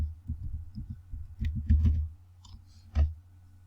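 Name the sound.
computer mouse clicking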